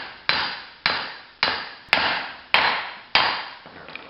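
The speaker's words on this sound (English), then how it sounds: "give just a couple taps just to start it" Six sharp hammer taps on a socket set over the splines, driving a front wheel hub out of a 2003 Mazda knuckle; evenly spaced metallic strikes, each ringing off briefly, close and clear with no talk.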